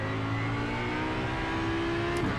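Audi GT3 race car engine in the iRacing simulator, a steady loud drone held at high revs under hard driving, with a brief pitch shift near the end.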